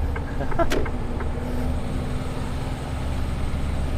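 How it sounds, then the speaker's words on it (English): A truck pulls in close by at a work site, its steady low engine rumble running throughout with a brief clank near the start. "I think that truck that was just at my last job's just pulled in here"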